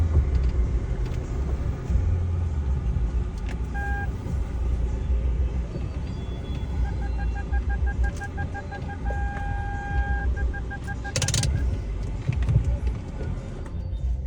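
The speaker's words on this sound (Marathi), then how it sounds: "आता गाडी मस्तपैकी लावायची कुठेतरी" A car being parked outside a house, its engine giving a steady close low rumble throughout, with faint background noises and a brief rise near the end.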